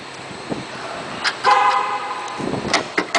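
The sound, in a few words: Chevrolet Avalanche car locking with horn chirp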